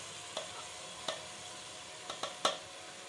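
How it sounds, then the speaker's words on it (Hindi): Fenugreek leaves are stirred into potatoes frying in a pan. A steady sizzle runs throughout, with four or five soft scraping stirs in an uneven rhythm, close and alone. "देखिए मेथी शामिल कर रहे हैं इसके अंदर,"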